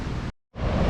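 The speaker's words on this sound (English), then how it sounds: "it sounds like I've made it to the waterfalls" Rushing water at a waterfall reached on a motorbike trip in Vietnam, a dense, steady roar cut by a brief gap, heard up close with no talk.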